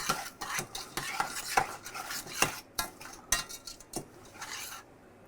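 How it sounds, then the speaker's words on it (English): Coconut, pecans and sugar for a German chocolate cheesecake topping being stirred in a bowl, a series of close scraping and clinking strokes in an uneven rhythm, fading to quiet at the end. "and stir that a little bit"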